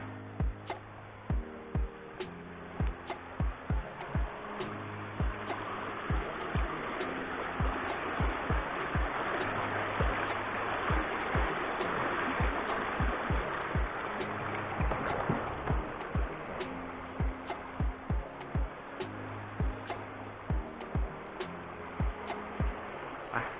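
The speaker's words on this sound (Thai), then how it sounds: "ตรงนี้ก็จะเป็นลำธาร ซึ่งน้ำก็มาจากน้ำตกข้างในนู่นในป่านู่นนะครับ" Forest stream fed by the Ton Lat waterfall in Songkhla, Thailand, beside a campsite, gives a soft, steady rushing wash heard from nearby, with a faint regular ticking running through it and no talk.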